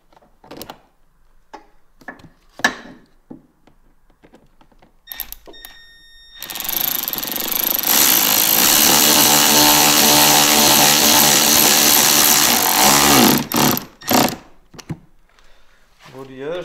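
A power tool driving T25 screws into the white bracket underneath a 2023 Ski-Doo Expedition SE 900 ACE Turbo snowmobile, with a loud, steady whir lasting several seconds between scattered clicks and handling noises, and a person talking nearby.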